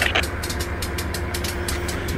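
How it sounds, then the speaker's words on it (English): Train passing at Sunnyside on its way west into New York, a low rumbling engine drone with a rhythmic series of clacks from wheels over rail joints, steady and fairly close. "Heading west on sub 1, train 43 on its way into New York."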